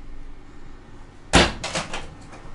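An overhead storage cabinet door in a 2023 Avenger 32BHS travel trailer's kitchen opens with one sharp clack and then closes with a few quieter rattling knocks, close by and without talk.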